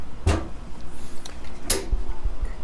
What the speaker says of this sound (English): when you drop this door down here, you're not getting a real, you know, banging sound